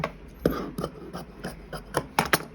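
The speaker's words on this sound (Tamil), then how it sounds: "இப்போ மேல் பீஸ் வெட்டுற பார்த்துக்கங்க." Scissors cutting a blouse fabric piece on a table, a series of short, close rasping snips and rubs at an uneven pace, with no voices.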